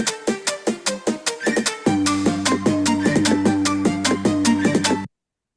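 Slow, dance-style background music from a children's homemade dragon game, a steady synth loop of plucked notes over a sustained bass that grows fuller partway through, played alone and fairly loud.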